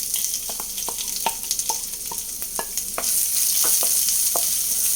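Chopped onion and curry leaves sizzle in a pan for a Kerala green gram curry, a steady close frying hiss with scattered stirring clicks and scrapes, growing a little louder near the end.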